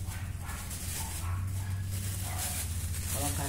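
A dog barks and whimpers in a home, with short yips in the background under steady low noise while someone talks nearby.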